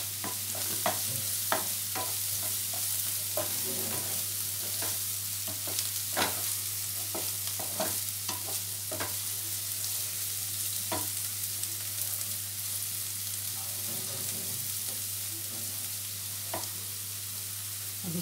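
Onion curry cooks in just a small amount of oil in a pan, producing a steady, close sizzle with a low constant hum underneath and repeated sharp taps and scrapes from stirring.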